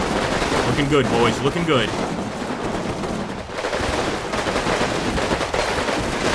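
Sustained gunfire in the WWII strategy game Combat Mission: Final Blitzkrieg, a heavy barrage on a stronghold, crackles continuously throughout, with someone speaking briefly over it early on.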